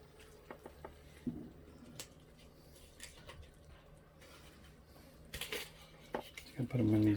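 A spoon scraping and clinking in a pan while ground beef Spanish rice casserole is stirred, scattered metallic knocks close by, louder toward the end, with a person talking.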